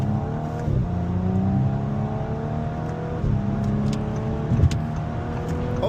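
A car, apparently an import from Japan, accelerates hard with a steady, close engine roar that climbs in pitch and drops at each of several gear changes, with no talking.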